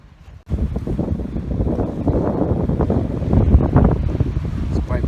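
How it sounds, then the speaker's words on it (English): Spring breeze buffeting the microphone on the Yorktown, Virginia waterfront, a steady, loud, rumbling roar that starts abruptly after a brief lull and continues without letup. "It's quite breezy down here on the waterfront."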